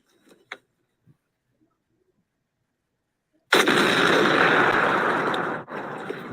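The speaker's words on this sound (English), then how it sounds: "Let's get a nice big explosion," A big explosion in a video game bursts in suddenly after a few seconds of near silence with faint small sounds, then roars loud and broad, sustaining for nearly three seconds before dipping and rumbling on.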